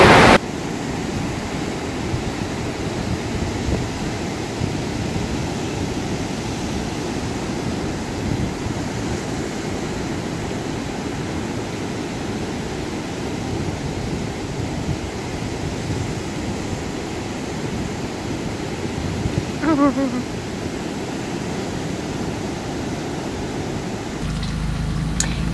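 Surf at St Augustine Beach on a cold, gloomy day, a steady broadband wash of waves mixed with wind buffeting the microphone, continuous and fairly loud with no voices.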